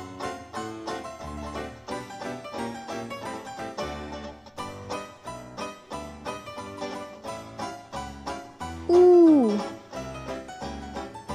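An owl hoots in a short, bright call that sweeps down in pitch, rising briefly above steady background music that plays throughout.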